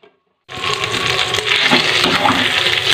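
Pieces of eel-like cuchia fish drop into hot spiced oil in a pan, bursting into a loud, steady hiss and sizzle after a moment of silence, continuing unbroken.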